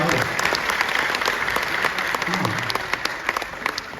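A crowd at a stand-up comedy show breaks into sustained applause, dense clapping filling the room with a voice faintly audible underneath.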